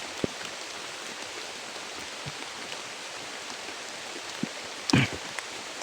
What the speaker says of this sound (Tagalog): Malakas yung ulan mga idol